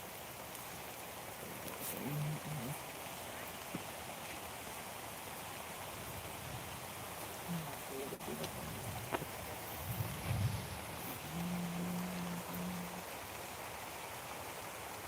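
Steady, soft hiss of rain falling throughout, with a few faint low tones and distant murmurs rising and fading in the background.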